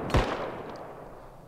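A single sharp gunshot fires in the Bodycam video game during a zombie update match, one loud close crack that decays quickly into a faint reverberant tail with no talking.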